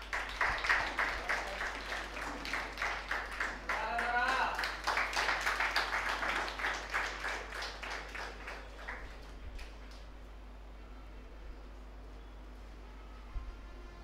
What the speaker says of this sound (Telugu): ఒకసారి క్లాప్స్ కొట్టండమ్మా.